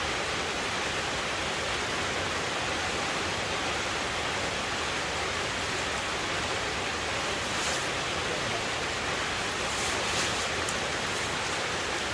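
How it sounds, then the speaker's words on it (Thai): Heavy rain pours down steadily and continuously in Thailand, a dense even wash of noise close by with no pauses. "ครับเราก็มาอยู่ในฝนตั้งแต่เช้าแล้วครับ ตอนนี้จะเที่ยงแล้วนะครับ ก็ยังไม่หยุดตกนะ ตกหนักด้วยนะ"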